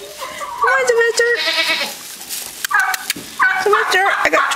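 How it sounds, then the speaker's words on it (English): Goats in a barn bleat repeatedly, several loud, wavering calls up close, with a person talking at the same time. "Goats."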